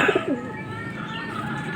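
Pet stock birds coo softly beside a small tub of bathwater, a few brief warbling calls at the start that give way to a low, quieter background.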